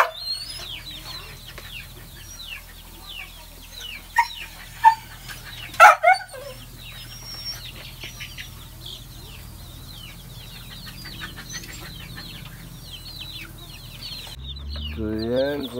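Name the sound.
chickens clucking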